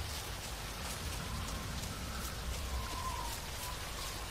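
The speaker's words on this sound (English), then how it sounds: "This rain is an absolute nightmare." Steady, heavy rainfall in the video game DayZ on the Namalsk map, a constant close hiss of drops pattering on surfaces with a low rumbling undertone and no voices.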